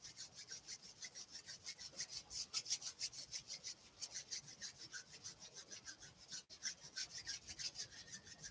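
Palms rub briskly together in a fast, even back-and-forth rhythm, a soft, close swishing friction with one brief break near the end and no voices.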